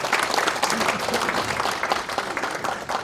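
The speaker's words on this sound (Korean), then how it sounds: "여러분 큰 박수 한번 부탁드리겠습니다" Steady audience applause fills a book concert hall, dense and continuous clapping from a crowd at moderate distance, sustained throughout without a break.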